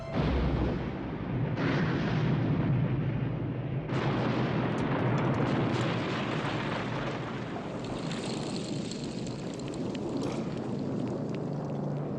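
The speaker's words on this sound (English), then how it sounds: "swim away fast enough for the shark in Jaws 3 to explode" A huge cinematic explosion from Jaws 3 as the shark blows apart, a dense, loud rumbling roar with sudden bursts, sustained debris and crackling through the whole stretch, no talk.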